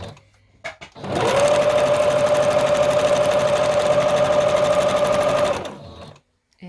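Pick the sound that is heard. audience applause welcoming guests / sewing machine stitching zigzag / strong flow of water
sewing machine stitching zigzag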